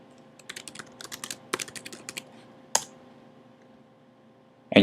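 Typing on a computer keyboard in a quiet room: a quick, uneven run of crisp key clicks, a short pause, then a few separate louder taps.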